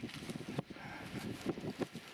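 Gusty wind buffets the microphone in uneven low rumbling bursts, with faint rustling in the background.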